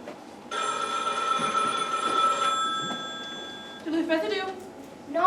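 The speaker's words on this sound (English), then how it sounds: "You're supposed to answer the phone and say Duluth residence, not residue" A telephone bell rings loudly in a steady sustained burst, then stops and gives way to a voice speaking nearby.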